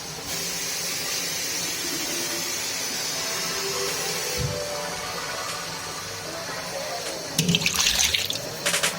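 Water is poured from a bottle into a pot of Neapolitan-style ragù, a steady close hiss and splash that runs for several seconds before a brief clatter and louder splashing near the end.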